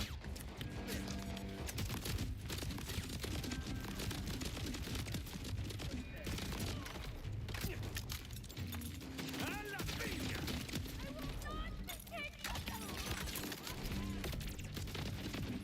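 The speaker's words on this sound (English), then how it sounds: "Grenade is pretty good right here." Grenade blasts and gunfire in the Borderlands 4 video game, a dense, continuous barrage of explosions and shots with crashing mechanical clatter, loud throughout with a voice talking faintly underneath.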